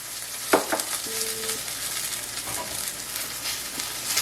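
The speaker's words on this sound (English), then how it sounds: "while the artichokes are browning" Artichokes brown in a pan with a moderate, continuous sizzle and a few faint scrapes or taps, with one sharper knock near the start.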